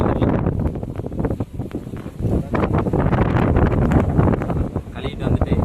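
Strong wind buffets the microphone outdoors, a loud continuous roar with rapid gusty flutters and rustling throughout, with no clear speech over it.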